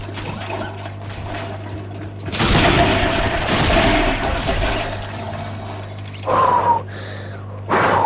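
Bursts of gunfire in a video game arena match, a loud dense volley erupting midway and a couple of shorter sharp bursts later, over a steady low game hum.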